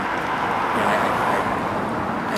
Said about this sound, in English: these cars going by